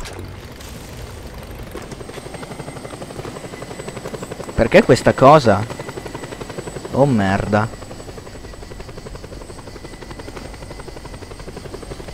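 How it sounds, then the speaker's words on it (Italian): A helicopter flies steadily in the video game Just Cause 2, its rotor drone droning throughout, while someone speaks Italian in two short bursts over it. "Sento un elicottero. Infatti c'è un elicottero."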